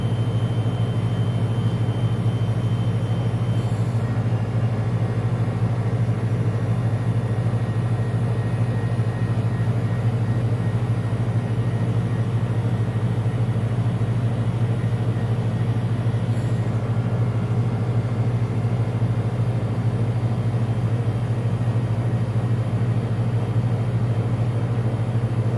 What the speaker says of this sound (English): pulling the temperature down significantly until both compressors of the Cascade refrigeration system are on